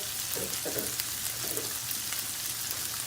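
Caramelized chicken pieces fry in oil in a pan with spices. A steady, close, hissing sizzle runs throughout, with a few soft stirring scrapes.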